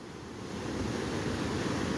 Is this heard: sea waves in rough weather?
yes